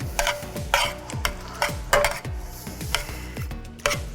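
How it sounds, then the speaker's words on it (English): Chili flakes being stirred in a frying pan, with a utensil scraping the pan in a steady rhythm of about nine strokes over a soft sizzle, close and clear with no talking. "Add a nice dash of it on there. And you're gonna stir them again."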